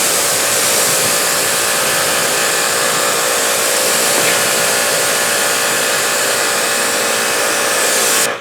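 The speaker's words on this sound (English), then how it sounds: "what I'm going to do is take my power washer, right? I don't want to get you wet. Let me rinse this off." A power washer sprays a steady, loud rinse over car paint to clear off an iron-removing spray clay cleaner, a continuous hiss running unbroken from start to finish with no voices.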